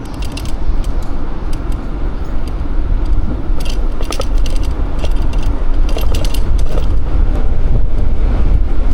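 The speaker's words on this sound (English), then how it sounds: "That is some good wind." Strong wind roars and buffets steadily while someone cycles through Shantou, Guangdong. A deep rumble runs throughout, with rattling and ticking bicycle mechanisms clicking over it.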